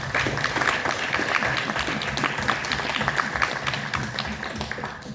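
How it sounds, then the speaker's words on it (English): A crowd applauds steadily, many hands clapping at once in a dense patter that carries on without pause. "Let's give them a hand clap"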